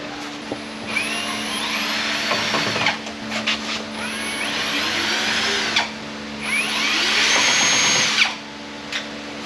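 Powered screwdriver backing self-tapping Phillips screws out of a factory-assembled panel, three sustained whirring runs of a few seconds each with brief gaps, close and loud, no speech.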